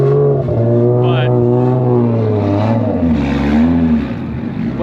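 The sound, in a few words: Lexus IS300 drift car engine revving on track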